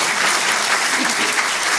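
An audience at a medical school graduation ceremony claps in dense, steady applause that fills the whole moment, with no voices standing out.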